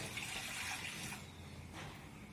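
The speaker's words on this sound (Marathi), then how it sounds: "मी दीड तांब्या पाणी टाकलंय" A steady wash of water pours from a tambya and splashes into a cooking pot, fairly soft, easing off partway through before a brief swell.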